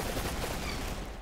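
A minigun fires in the video game Arsenal, a continuous dense rattling burst that is loud and close and holds for just over a second.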